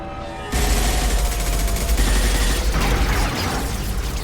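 Sustained automatic gunfire from a firefight in Mass Effect 2, loud and dense, kicking in after a brief quiet start and rattling continuously with mechanical clatter and booming impacts.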